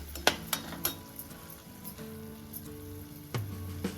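Tomatoes with salt and turmeric powder being stirred in a pan: several clinking scrapes of a utensil against the metal pan, spaced irregularly over a soft low kitchen background, close and moderately loud with no talking.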